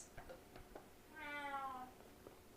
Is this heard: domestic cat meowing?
yes